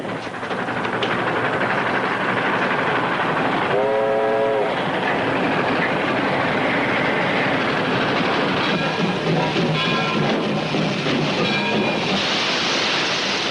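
A 1930s film soundtrack train rumbles steadily along the tracks with continuous clatter, and a horn sounds briefly partway through, no voices.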